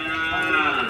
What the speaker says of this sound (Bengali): এই যে ষাড় গরু